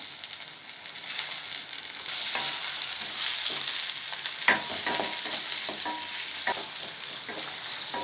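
Chopped onion and medium tomato sizzle steadily in hot oil for a brinjal varuval, with occasional stirring clinks and scrapes of a spoon in the pan, close and continuous and without talk.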